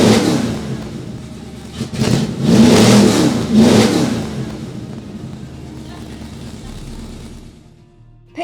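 A yellow Rover Rebel car engine turns over and revs hard in a few loud surges, then settles into a steady idle up close.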